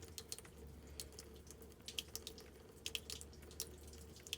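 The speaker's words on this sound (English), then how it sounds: "You can see it draining down there." Water drains through the hose of an LG washing machine, heard as faint, quiet trickling with scattered small drips and splashes over a low hum.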